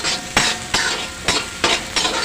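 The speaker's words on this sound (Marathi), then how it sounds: "कांदा घालत आहे दोन मध्यम आकाराचे कांदा चांगला भाजून घेते" Two medium onions frying in a large wok for tempered fried rice, a continuous sizzle broken by a spatula scraping and stirring in regular strokes, about five sweeps in quick succession, close and clear with no talking.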